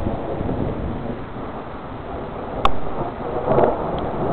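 Thunder rumbles from a tornadic thunderstorm, a low, steady roll with a sharp crack near the middle and a second swell soon after, mixed with wind buffeting the microphone.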